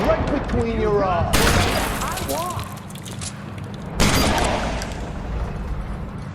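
Gunfire in the L.A. Noire video game: two sharp, loud bursts of shots, each trailing into a decaying rumble, with a voice calling out between them over a low background drone.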